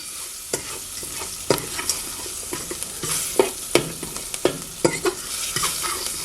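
A spoon scrapes and knocks around a pot of 16 bean soup base, with irregular clacks and scraping strokes over a soft sizzle from the heat underneath, fairly close.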